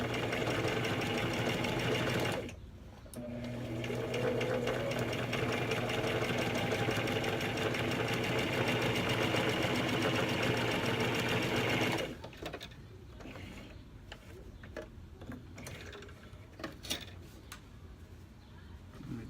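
A sewing machine running a seam with the presser foot aligned to the edge, loud and steady close by, pausing briefly near the start, then stopping so quieter handling noises and faint room sound follow.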